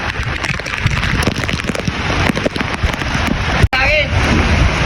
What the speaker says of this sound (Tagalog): Ito palakas ng hangin.